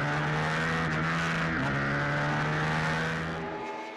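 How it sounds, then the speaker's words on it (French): A roadster race car at the Paul Ricard circuit during the Scorpion Masters 2013 holds a loud, steady engine drone close by, with a brief pitch dip midway, then fades slightly at the end. "Le roadster du rallyman est plus agile dans les portions sinueuses du Paul Ricard."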